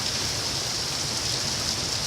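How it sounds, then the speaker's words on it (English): Heavy rain pours steadily from under a porch awning, a dense, even hiss with no pauses that stays loud and close for the whole stretch. "Oh, it's raining hard."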